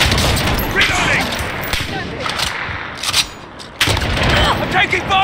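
Incoming gunfire in Call of Duty Warzone, played on an Alienware Area 51m R2 laptop: dense, continuous shots and cracks with a few sharper bursts, loud and close throughout, with game voice callouts mixed in.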